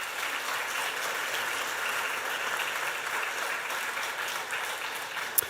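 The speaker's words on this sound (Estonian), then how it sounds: "Teeme nominentidele aplausi." Steady audience applause for the nominees at a student-company award ceremony in Saaremaa, a dense even wash of many hands held at constant level, with one sharper clap near the end.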